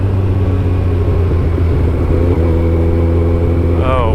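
A 210 horsepower motorcycle engine roars steadily and loud at night, a dense continuous rumble that holds throughout and rises slightly in pitch near the end.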